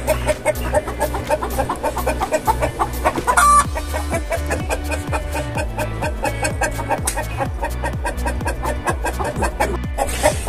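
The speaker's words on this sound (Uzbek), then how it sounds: "Tovuqlar reaksiyasini ko'rib xo'roz ham asabiylashni boshladi" Hens and a rooster cluck and squawk agitatedly in a coop. Rapid, overlapping, repeated calls are loud and close, with one sharper outburst partway through and no people speaking.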